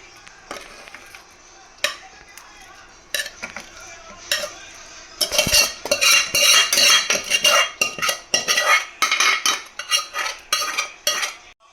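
Fried chicken is dropped into buttermilk curry in a pot and stirred, with sharp metal spoon scrapes and clanks against the vessel growing louder and rhythmic after a quieter start.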